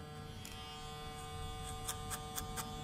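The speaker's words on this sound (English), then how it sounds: "The clipper I'm using is a caliber. It's a magnetic clipper" A Caliber magnetic hair clipper runs with a steady close electric buzz and hum, with a few faint clicks near the end and no talking.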